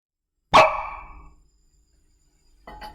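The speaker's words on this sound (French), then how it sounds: "Voici donc le son caractéristique du dihydrogène quand on l'allume" A single sharp pop bursts out as hydrogen gas ignites at a flame and rings briefly before fading, followed by a softer, short rustle near the end.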